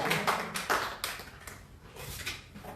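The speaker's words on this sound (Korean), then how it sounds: "하나님께 감사 영광의 박수를 올려드리겠습니다." Church congregation at an Easter service clapping in a short, loose burst of overlapping claps that rise and fall, heard in a reverberant hall with no talking.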